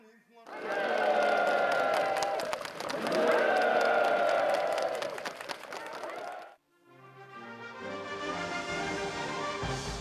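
Enthusiastic applause from participants at a North Korean housing ceremony, dense clapping and crowd noise filling the first six seconds before cutting off abruptly, followed by music.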